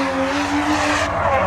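Drift cars running in tandem on the Indie Motorsports Ranch track in Tucson, Arizona, engines roaring hard with squealing, skidding tires, loud and close throughout.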